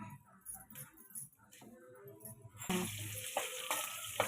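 Mustard seeds, cumin, urad dal, dried chillies and asafoetida sizzle in a little oil, a soft crackle with light stirring clinks that grows louder and busier partway through.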